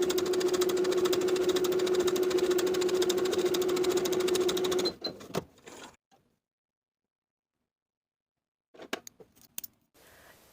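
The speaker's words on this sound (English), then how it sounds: "Now I'll sew each of my darts starting from the bottom to the point" Sewing machine stitching darts on a dress bodice, a steady, fast, close whirring run for about five seconds that stops, followed by silence and a few faint handling clicks.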